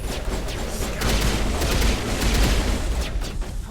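Dense bursts of gunfire rattle nearly nonstop through a sci-fi video game firefight, loud and close, rapid overlapping shots and booms with no pauses.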